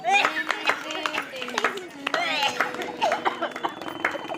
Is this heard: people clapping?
yes